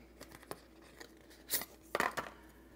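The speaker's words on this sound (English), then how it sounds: "So let's take this card out" An Apple Card is pulled from its packaging: quiet, close paper and cardboard rustles, a few light clicks, and a brief tearing scrape near the end.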